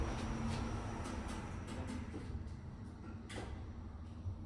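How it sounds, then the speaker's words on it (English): Doors of an FLS/MacPuarsa machine-room-less traction lift in a glass building in Hamilton, Queensland, sliding shut with soft rumbling and a few light knocks, fairly quiet and close. "Doors are closing."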